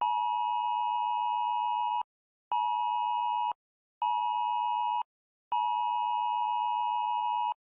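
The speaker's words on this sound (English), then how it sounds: "it's a wireless emergency alerts. And that's that obnoxious sound" Four loud, steady electronic tone bursts from a phone's wireless emergency alert, each about one to two seconds long and separated by short silent gaps, harsh and piercing with no voices.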